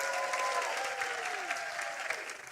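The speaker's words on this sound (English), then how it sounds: "Give yourself a round of applause." Crowd of over 100 people at a Vacation Bible School night applauds in a brief burst of mixed clapping, with a whistle-like tone and a voice or cheer gliding beneath the claps.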